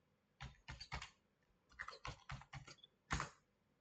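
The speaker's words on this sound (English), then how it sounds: "For this, we have to type here" A computer keyboard is typed on in short bursts of quick, close keystrokes, with brief pauses between groups of clicks, quiet and alone.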